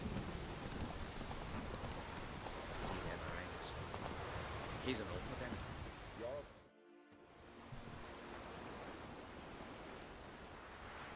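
Steady rain with low thunder rumbling in The Witcher 3 video game, a loud continuous downpour that cuts out briefly near the end before resuming.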